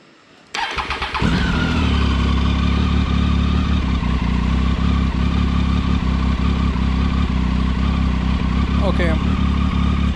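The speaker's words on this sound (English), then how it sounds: "let me just pull in the clutch and start the bike" A motorcycle engine cranks briefly, fires up and settles into a loud, steady idle with a throbbing low rumble close by, running on continuously afterward.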